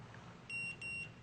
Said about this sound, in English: press and hold the set button for 2 seconds until it beeps